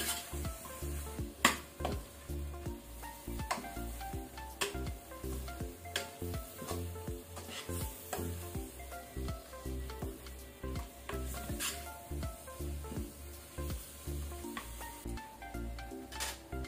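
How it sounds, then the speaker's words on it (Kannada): Chicken pieces with masala sizzle steadily in a pan over a low flame, with a soft frying hiss and repeated clinks and scrapes of a spoon stirring against the vessel. "ಈಗ ನಾವು ಇದನ್ನು ಸ್ವಲ್ಪ ಮಸಾಲ ಜೊತೆ ಫ್ರೈ ಮಾಡ್ಕೊಳ್ಳುವ."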